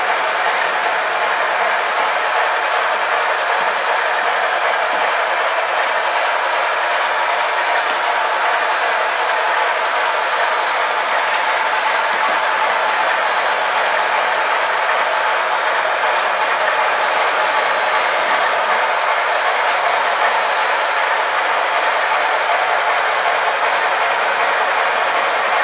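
A model train runs steadily along its track at a model railroad club with a continuous rolling rattle and faint clicking, close by and unbroken for the whole stretch.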